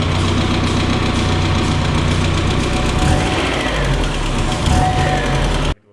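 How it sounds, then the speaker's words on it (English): A race car being built for the Ascari 24-hour event, its engine running at close range with a steady, rough, knocking idle and slight rises in revs before it cuts off abruptly. "This sounds like an engine."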